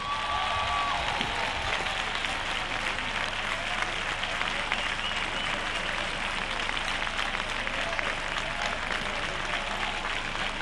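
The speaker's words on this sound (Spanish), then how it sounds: "cómo se aplauden unos a otros es fantástico" Carnival murga groups applauding one another at a contest awards announcement, a dense, steady wash of clapping from a large crowd lasting throughout at strong, even loudness.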